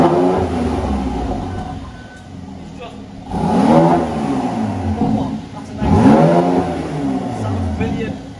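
A Mercedes-AMG C43 3.0-litre V6 revs with its sport exhaust valves open, giving two or three loud, close rising blips over a low idle rumble; a voice talks beneath the engine.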